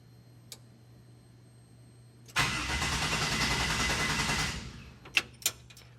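A car engine fitted with Holley EFI cranks for about two seconds and fails to start, since its spark plugs are not connected. A few sharp clicks follow in a quiet space.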